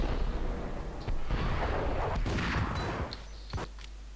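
Gunfire and explosions in the video game Max Payne: a dense barrage of booming shots and blasts, followed by a few sharper isolated bangs as the action thins out.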